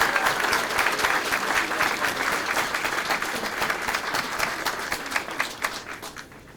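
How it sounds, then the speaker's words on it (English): Audience at the South Central Power Project opening ceremony clapping for the Winter Middle School Band, a loud, dense round of applause that thins into scattered individual claps before stopping. "Can I have a round of applause?"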